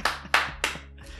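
Scattered hand claps from an audience at a concert, four sharp bursts in about a second with a faint steady hum underneath, no talking.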